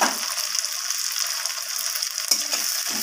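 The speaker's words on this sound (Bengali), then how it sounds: "তো টমেটোর সাথে পেঁয়াজ ক্যাপসিকাম সব কিছু ভালোভাবে আমি আবারও ভেজে নিচ্ছি" Tomato, onion and capsicum frying together in a pan, a steady close sizzle with hiss that holds throughout, with a brief stir or scrape near the end.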